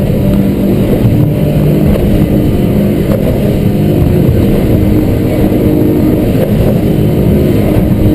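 A Stabicraft 2880 Pilothouse boat cruises along with a steady loud engine drone and rushing water and wind noise throughout, unbroken and close.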